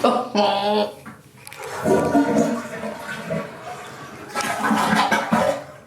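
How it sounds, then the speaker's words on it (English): A toilet being flushed with its water supply shut off while a bidet is installed in a new home, giving a gurgling, draining rush with no refill hiss, mixed with brief voices and laughter nearby. "You flush the toilet and you hear that?"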